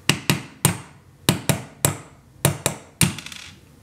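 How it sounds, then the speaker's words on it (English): An armorer's hammer strikes a punch to drive the pin out of a SIG Sauer P365 XMacro grip module, giving about ten sharp, close metallic taps in pairs and a harder final strike, with brief ringing after each hit. "So how we're going to tap out the pin is take our armorer's hammer."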